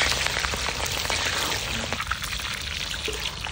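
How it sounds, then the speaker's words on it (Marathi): Onions frying in oil until golden brown, a dense, crackling sizzle heard up close that holds steady throughout, with no voices. "कांदे आपण याच्यामध्ये फ्राय करून घेऊ। गोल्डन ब्राउन होईपर्यंत आपण त्याला फ्राय करून घेऊ।"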